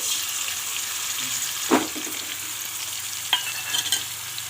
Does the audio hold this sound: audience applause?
no